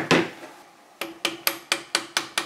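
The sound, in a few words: pin punch tapping out a rifle's rear sight retaining pin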